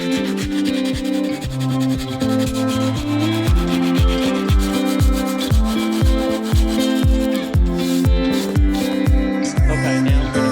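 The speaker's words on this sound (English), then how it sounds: "I'm going to put 80 grit on a dura block and block this down flat." A dura block fitted with 80 grit sandpaper is pushed over cured epoxy on a 1989 Honda CRX body in loud, regular back-and-forth strokes of about two per second, with a tonal ring in each pass.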